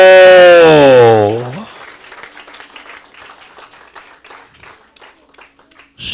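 A sustained sung or held voice gives way to a steady patter of applause from a crowd, fairly loud and continuous.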